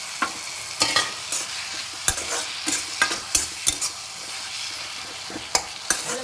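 Fried potato tipped into a pan of frying vegetables and stirred, a constant close sizzle punctuated by repeated sharp scrapes and knocks of the spoon at irregular intervals, no talk.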